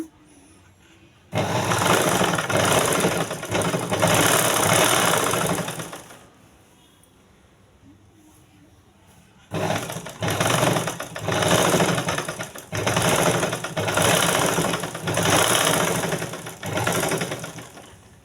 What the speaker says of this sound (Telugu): ఇక్కడ ఒక టాప్ స్టిచ్ వేసుకోవాలి